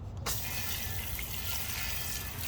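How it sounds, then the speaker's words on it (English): Water sprays steadily onto a car wheel during a rinse after a wheel cleaner, a continuous hissing wash that starts abruptly and runs evenly without talk. "and rinse it off."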